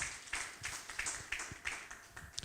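An audience at a university partnership launch ceremony clapping for a guest speaker, a faint, irregular smattering of hand claps from a modest crowd.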